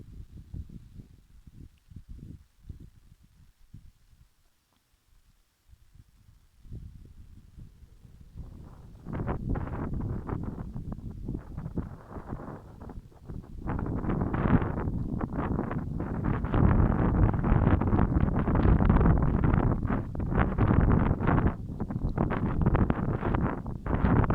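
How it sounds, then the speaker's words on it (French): Wind gusts outdoors, a low rumbling rush that starts soft and uneven, then swells after a lull into a steady, louder roar buffeting close by. "Et autour de moi, le vent s'agite par moments"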